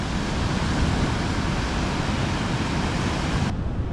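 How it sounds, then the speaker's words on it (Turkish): Waves break continuously along the shore at Puerto Escondido, Mexico, a constant hissing surf roar mixed with low wind buffeting, steady and unbroken from start to finish. "Gayet güzel dalgalar varmış."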